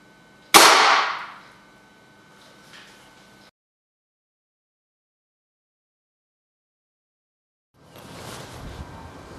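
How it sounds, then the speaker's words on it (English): One sharp air rifle shot, fired indoors with high penetration Walther pellets into ballistic gelatin, gives a loud crack with a brief ringing tail, then silence, then a stretch of handling noise. "first we're going to test this air rifle"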